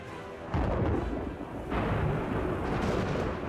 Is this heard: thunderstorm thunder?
yes